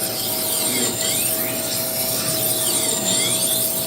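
A blade is ground on a sharpening machine to raise a burr, giving a loud, steady abrasive grinding with a constant tonal hum underneath and no talking.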